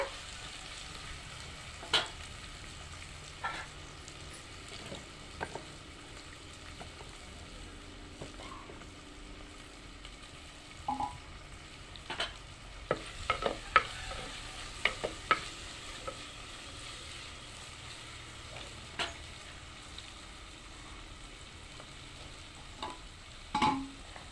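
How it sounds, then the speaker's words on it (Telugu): Onions and chillies fry quietly in a pan over a steady low sizzle, with a scattering of soft scraping and stirring knocks throughout. "మిరపకాయలు గోలినవి ఉల్లిగడ్డలు వేసుకోవాలి మంచిగా గోలాలి"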